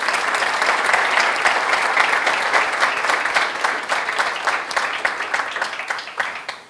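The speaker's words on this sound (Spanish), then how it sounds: "Un aplauso para Gustavo" Warm audience applause at a Spanish-language panel on freedom of expression, dense at first, then thinning into more distinct individual claps as it tapers off near the end.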